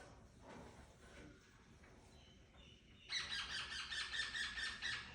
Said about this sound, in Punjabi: ਇੰਨਾ ਰੌਲਾ ਪਾਉਂਦੇ ਆ ਉਹ ਉੱਥੇ ਰਹਿੰਦੇ ਆ ਮਿੱਠੂ ਦੋਤੇ